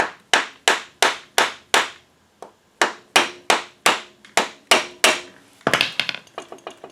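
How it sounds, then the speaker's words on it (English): Repeated sharp taps from a soft hammer driving a ball joint past a retaining clip on a Honda FourTrax 300 ATV, about a dozen blows close up, ending in a quicker cluster of lighter taps. "I think it just needs to be tapped in now. Past that retaining clip, soft hammer"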